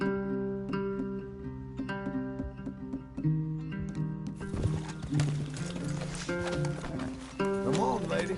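Horses in the video game Red Dead Redemption, hooves clip-clopping in an uneven rhythm beneath a loud tonal music score, with rustling and a brief whinny-like burst near the end; no talk.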